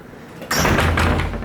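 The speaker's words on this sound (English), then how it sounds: "Full-size door." A beach house door on the coast of Guanacaste, Costa Rica opens or shuts with a sudden loud rush of sound after a quiet start, followed by a sustained broad noise.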